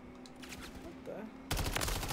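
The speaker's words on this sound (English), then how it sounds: "Taking effective fire" Gunfire in Call of Duty: Modern Warfare III Zombies erupts suddenly after a quieter stretch of game ambience, a loud sustained burst of rapid shots at close range.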